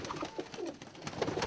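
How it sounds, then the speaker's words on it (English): Ice pigeons with white bars coo softly in a show pen, a faint low murmuring burble heard briefly. "They're really nice ice pigeons."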